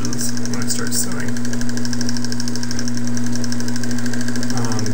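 A Singer 99 sewing machine winds polyester thread onto its bobbin at a slow pace, giving a steady, continuous motor hum with a faint mechanical whir throughout.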